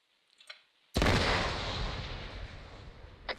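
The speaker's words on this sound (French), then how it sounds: "Ça, C'est de très belles explosions." A single loud explosion in ARMA III booms suddenly after a brief quiet, its rumbling roar slowly fading over a couple of seconds, with a faint click before and after.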